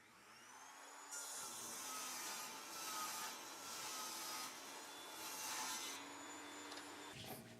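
An Evolution Rage 5S table saw with improved dust collection cuts through wood, making a steady high whirring rasp that runs about six seconds with slight surges as the blade bites, then spins down.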